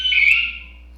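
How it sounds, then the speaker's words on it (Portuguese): An electronic alarm sounds a single high, piercing tone that holds briefly, then fades and tapers off within a second, heard alone and fairly close. "Desarma o alarme que vai disparar."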